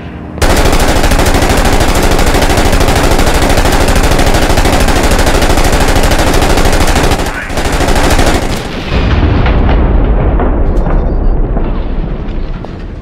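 Sustained heavy gunfire and explosions in the Six Days in Fallujah combat game, loud and continuous for about eight seconds, then a brief drop before another roaring blast and rumbling aftermath.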